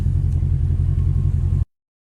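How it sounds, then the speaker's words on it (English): A loud car engine rumbles steadily with deep low throb, then cuts off abruptly into silence. "All because my car is loud."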